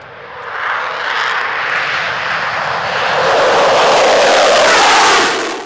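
A Rafale fighter jet's engine roars loudly, a broad, powerful rush that swells stronger midway and holds before easing at the end, with no talk over it.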